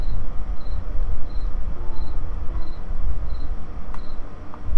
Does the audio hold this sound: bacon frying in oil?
no